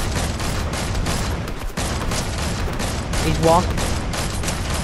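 Rapid gunfire in Fortnite Battle Royale, a dense crackle of shots running throughout under a short spoken line, close and loud with a brief dip midway.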